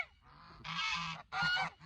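Two loud, harsh honks from a pasture-kept farm goose, close by and separated by a short pause, with a fainter call just before them.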